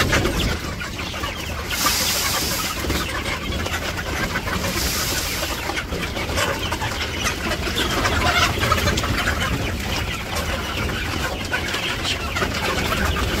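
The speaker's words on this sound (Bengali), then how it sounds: "এই যে মুরগিটা খাবার দিয়ে নিতেছে সকাল সকাল" Chickens clucking and fussing as they are fed in the morning in a village yard, a busy, fairly loud flock with a dense, continuous texture of calls.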